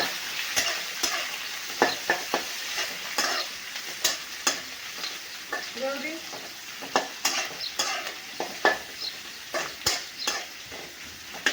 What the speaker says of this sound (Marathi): कांद्याला आपण चांगलं परतून घेणार आहे